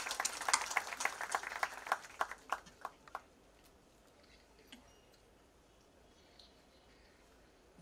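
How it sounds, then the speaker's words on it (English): Brief applause for a guest invited on stage at a launch event, a quick burst of scattered clapping that fades within about three seconds, leaving a quiet hall. "Please give him a big round of applause."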